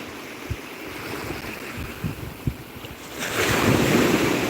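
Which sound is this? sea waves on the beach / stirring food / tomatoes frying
sea waves on the beach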